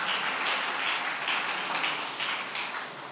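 Audience applause during a church sermon: a steady, dense wash of clapping that holds for about three seconds and eases slightly toward the end, with no talk over it.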